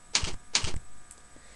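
Two quick bursts of keystrokes on a computer keyboard, each a short clustered clatter of clicks, close and clear, followed by a faint single tap and quiet room tone.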